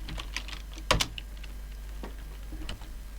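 Typing on a computer keyboard, a few soft scattered key clicks with one sharper tap near the start, fairly quiet over a low steady hum.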